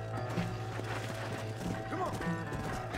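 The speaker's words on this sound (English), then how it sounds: "meu Deus, esse cavalo é muito rápido, cara" Horse hooves clip-clop rapidly in a galloping rhythm in the video game Red Dead Redemption, heard under steady tonal game music, with a faint whinny partway through.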